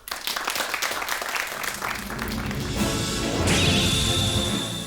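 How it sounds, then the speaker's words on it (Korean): Studio audience at a Korean TV storytelling show claps to welcome a storyteller, with sharp, dense applause at first that then blends into a fuller, sustained roar of sound. "박수로 환영해 주십시오"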